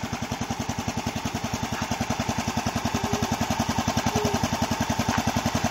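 A tractor engine runs steadily with a fast, even chugging pulse, close and fairly loud, with no talk over it.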